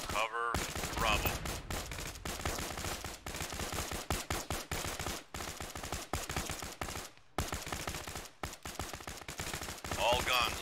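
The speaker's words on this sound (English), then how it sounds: "All guns, suppressive fire." Dense, sustained automatic gunfire from several weapons in a military video game firefight, rapid overlapping bursts nearly continuous throughout with only brief gaps, loud and close, with faint radio-style voices mixed beneath.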